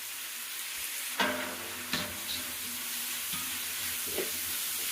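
Rice stirred in a pot on a stove, with a steady hiss of steam and frying, broken by a few distinct scraping and knocking strokes of the spoon, heard alone.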